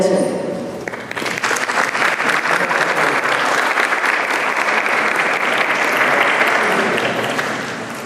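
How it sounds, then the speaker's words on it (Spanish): An audience at a talk on family therapy breaks into loud applause for a doctor; after a voice at the start, dense clapping swells and holds steadily for several seconds before beginning to taper. "Démosle un fuerte aplauso a la doctora Verónica Campos Hernández"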